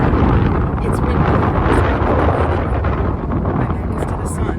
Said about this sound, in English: because it is windy